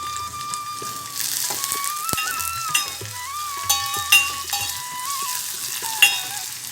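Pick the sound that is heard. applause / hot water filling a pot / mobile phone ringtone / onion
onion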